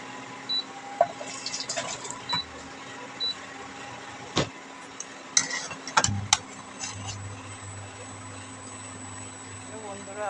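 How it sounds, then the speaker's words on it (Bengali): Fish curry gravy pours from a pot into a bowl in a home kitchen, a soft, low liquid trickle with a few sharp clinks of utensils against the cookware. "ঝোলটা এবারে ঢেলে নিচ্ছি।"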